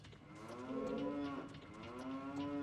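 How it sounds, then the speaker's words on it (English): A cow's moo replaces the fairy companion's alert sound in an Ocarina of Time randomizer game, coming as one long, loud, drawn-out low moo that fills the clip alone with no talk. "Navi sound being the moo is definitely a thing that I have thoughts on."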